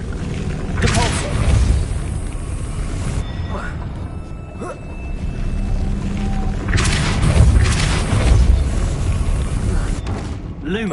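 Depulso, the force-push spell in the video game Hogwarts Legacy, lands as heavy booming blasts with rumbling low impacts, repeated amid other spell effects and ongoing game noise, with a voice calling out spell names over it.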